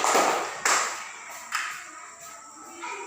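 In a school classroom, a few separate, sharp hand claps ring out for a student, widely spaced and fading in strength, with a faint roomy tail after each.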